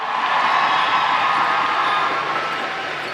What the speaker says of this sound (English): Let's give our singer a big round of applause